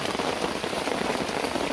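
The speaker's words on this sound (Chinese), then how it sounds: "所以下大雨，" Heavy rain falling at a hiking camp on Telang Usan, a dense, continuous hiss of drops pattering on surfaces, steady and close throughout.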